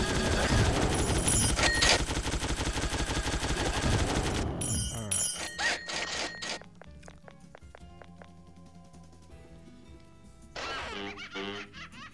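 A machine gun fires in the Spy vs Spy video game, a dense rapid burst of shots for about five seconds, followed by sparser game effects and a short noisy burst near the end.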